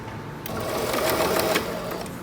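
Sewing machine fitted with a piping foot stitching piping onto a preschool backpack, a fast steady mechanical whir running loud and close throughout.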